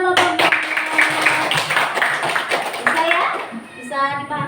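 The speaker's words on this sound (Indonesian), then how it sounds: "Tepuk tangan kelompok." A group of students claps together in a classroom, a dense burst of many hands spread across the whole moment, with a teacher's voice and children's chatter mixed in toward the end.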